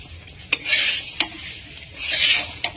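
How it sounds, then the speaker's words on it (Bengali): Pulao rice is stirred and fried in a pan, with a steady sizzle and scraping strokes of the spoon, plus a few sharp clicks against the pan, close up and without talk. "আরো 2-4 মিনিট নাড়াচাড়া করে নিয়েছি, বেশ ভালো করে ভাজা হয়ে গেছে।"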